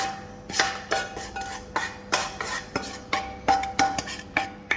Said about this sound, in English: as you can see now, the final pounding